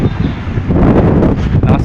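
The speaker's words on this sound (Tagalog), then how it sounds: "Lakas ng hangin." Strong wind on a ship buffets the microphone in a continuous low roar, with rustling and a faint voice in the background.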